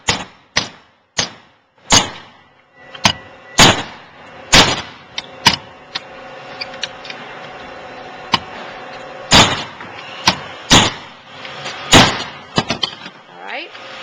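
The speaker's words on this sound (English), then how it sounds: "you're going to knock the shaft in again" Repeated hard knocks as a pool cleaner's shaft is tapped into place, a string of loud, sharp impacts at irregular intervals with brief quieter handling in between.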